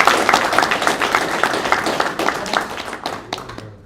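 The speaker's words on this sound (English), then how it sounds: "Clap it up for Hope" An audience at a live event claps and applauds steadily for a few seconds, a dense patter of hands that gradually thins toward the end.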